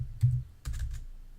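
Keys tapped on a computer keyboard while an email address is entered into a sign-up form: a couple of short, soft bursts of clicks, close and fairly quiet, with no talking.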